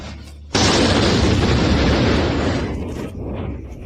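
A single loud explosion in Moscow bursts in suddenly and roars as a broad rumbling blast, slowly decaying over a few seconds.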